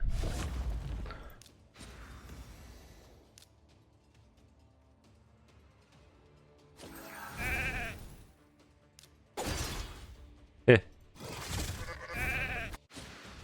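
A sheep in the Raid Shadow Legends video game bleats through a battle, several wavering cries mixed with swooshes and a sharp hit amid quiet gaps.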